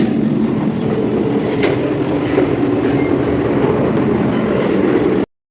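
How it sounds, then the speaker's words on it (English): Metro train ride in Kolkata from Tollygunge toward Dakshineswar, a loud steady rumble of the moving carriage with rhythmic wheel clatter heard from inside, cutting off abruptly at the end. "So by metro we went to Dokhineshwar from Taliganj metro."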